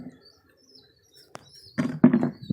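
Pigeons in a breeding setup feed their chicks, giving soft chirps and cooing that turn into a louder burst of low, throaty sounds near the end, preceded by a sharp flutter-like sound.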